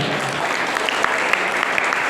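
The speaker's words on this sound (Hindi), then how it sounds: "पहले ताली बजा दे एक बार।" An audience at a religious celebration of Mahavir's birth in Udaipur breaks into steady, dense clapping that carries evenly through the moment with no voices over it.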